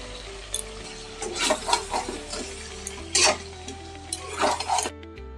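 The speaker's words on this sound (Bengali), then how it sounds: "এবার আমি এই যে পেঁয়াজ, টমেটো আর লঙ্কার পেস্টটা দিয়ে দেব।" Onion, tomato and green chili paste goes into a pan of spinach chicken masala and is stirred, giving a sizzle with scraping spoon strokes and clinks of metal cookware in bursts, loud and near, with no talking.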